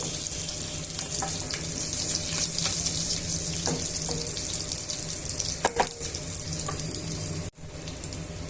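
Spices sizzle steadily in a frying pan for a Telugu-style carrot fry, a continuous close crackle with a few clinks of stirring, no voices, and a brief dropout near the end.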